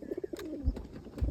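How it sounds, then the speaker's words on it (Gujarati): Pigeons in a loft give soft, low cooing calls, a few rounded coos close by over quiet background rustle. "આમાં જો કેવા કબૂતર બેઠા બંને બ્લેકી અંદર"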